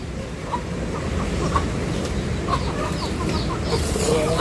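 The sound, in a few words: chicks peeping and clucking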